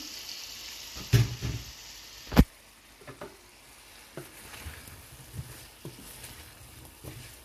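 Thick-cut potatoes go into hot oil in a pan, giving a soft sizzle with a couple of sharp clatters early on, then quieter scattered taps and crackles.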